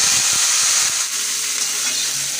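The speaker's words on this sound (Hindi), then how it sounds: "अब गोभी को 2 मिनट के लिए इसे अच्छी तरह से फ्राई कर लीजिए" Cauliflower pieces frying in hot oil with dried red chilies and asafoetida for gobhi paratha filling, a loud, steady, close sizzling hiss with a few soft stirring knocks early on, no talking.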